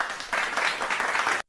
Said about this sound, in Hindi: जग्गू के लिए सभी बच्चे तालियां बजाएंगे।